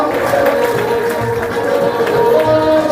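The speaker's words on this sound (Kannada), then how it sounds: "ಜೋರಾಗಿ ಚಪ್ಪಾಳೆಯನ್ನ ತಟ್ಟೋದ್ರ ಮುಖಾಂತರವಾಗಿ ಇಲ್ಲಿ ಸಂದರ್ಭದಲ್ಲಿ ಪಾಲ್ಗೊಳ್ಬೇಕು" Crowd clapping and applause from an audience at a religious fair gathering and felicitation ceremony, a steady broad wash of many hands, continuous and fairly loud for the whole stretch.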